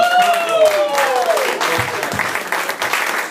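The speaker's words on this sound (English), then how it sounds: "Could I get some applause just for fun?" Applause from a comedy club audience in Austin, Texas, loud and steady at first, then thinning out, with a voice speaking over it.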